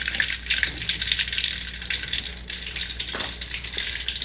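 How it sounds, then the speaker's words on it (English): Tofu sizzling in hot oil in a pan while cooking an Asian-style dinner, a steady close crackling hiss with a few small clinks, no voices. "Tofu goes in there."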